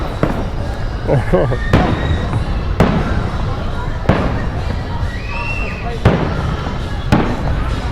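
Independence Day fireworks burst in sharp, booming cracks every second or so, moderately near, with people talking and murmuring between the blasts.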